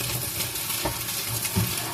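Cabbage stir-fried in a pan with a steady sizzle and scraping stirring noises, a few louder clanks of the utensil against the pan, no talking.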